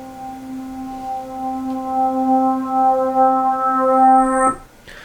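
A reversed guitar note rendered in Pro Tools swells steadily with a sustained harmonic tone, growing louder before cutting off abruptly, with no voices.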